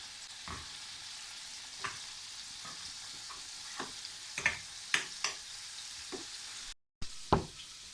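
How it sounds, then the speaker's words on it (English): Liver frying in a generous amount of butter in a pan, a steady soft sizzle broken by a handful of sharp spatula taps and scrapes spaced irregularly, with no talking. "we are going to cook the liver and we add humongous amounts of butter or the fake butter"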